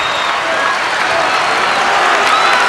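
A basketball crowd at a 1981 NCAA championship game cheers and applauds steadily, a dense, loud wash of clapping and voices filling the arena.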